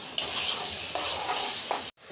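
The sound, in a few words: shrimp frying with onion and spices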